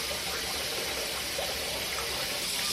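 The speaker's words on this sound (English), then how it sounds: "Go ahead and wash this out." Running water pours steadily from a tap while something is rinsed out, a continuous close gush with no break.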